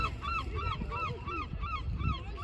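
Repeated honking bird calls by the water in Argyll and Bute, a steady run of evenly spaced cries over a low rumbling background, moderately distant.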